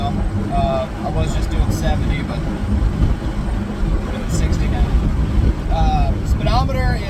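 A 1962 Ford Falcon with a 200ci six and T5 manual gearbox cruising at about 60 mph with the windows down: a constant low engine and road drone with rushing wind roar inside the cabin, and a voice briefly over it.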